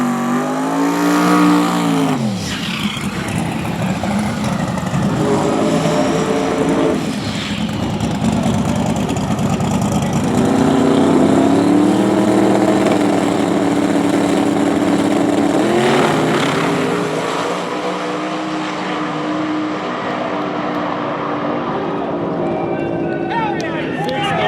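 Drag racing car at a Florida event, a loud engine running and revving up through the gears, sustained and fairly near with a rising, sweeping pitch and people talking over it.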